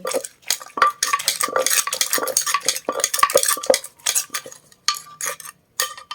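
Papaya salad ingredients pounded together in a mortar with a pestle, a brisk run of close, irregular knocks and clatters, loud and without talk.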